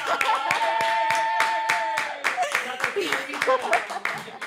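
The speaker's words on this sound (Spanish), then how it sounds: "Yarian, aplausos, señores." A studio audience claps for Yarian on a talk show, a brisk run of close, sharp hand claps that swell and then thin into looser, uneven clapping as voices and cheers come in underneath.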